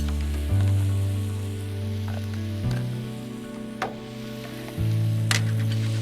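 Garlic sizzles on a turned-down griddle, a steady crackling hiss that runs the full length, close and even, layered over low sustained music tones that shift pitch every couple of seconds.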